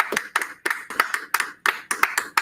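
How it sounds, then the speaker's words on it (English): Steady rhythmic hand clapping, about two claps per second, sharp and close, with no talking. "Clap it up, clap it up."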